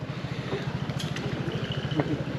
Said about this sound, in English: it's always worth watching out for motorcycles in this community